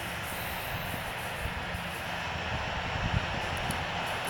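A Boeing 737-800 taxis in the Infinite Flight game, a steady broadband jet engine whine and rumble, constant and moderately quiet with no talk over it.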